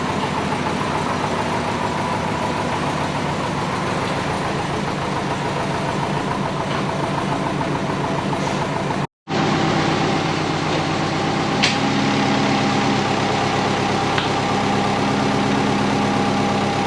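A vehicle engine idles steadily just after starting, a continuous mid-range hum with faint knocking vibration, cut by a brief gap midway before resuming at the same level.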